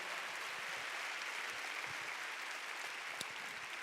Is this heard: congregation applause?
yes